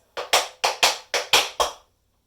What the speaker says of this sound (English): Then we're going to do a forceful right heel drop.